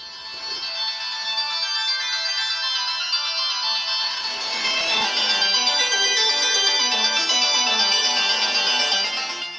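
Music or a ringtone-like melody playing through the tinny built-in speakers of a Peakago 7-inch 2-in-1 laptop, bright and thin with little bass, steady and fairly loud throughout.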